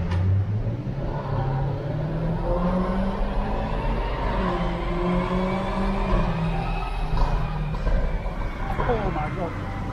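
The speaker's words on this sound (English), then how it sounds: "we're just now doing the first dyno run" A Jaguar F-Type SVR engine runs on a dyno, its loud note climbing steadily in pitch through a sustained pull, with a voice briefly audible over it.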